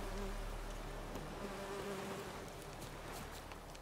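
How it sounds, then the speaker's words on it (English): Bees buzzing in Witcher 3, a steady droning hum of several insects held at moderate distance throughout, with no talk. "I hear bees? Right there. Oh, bees."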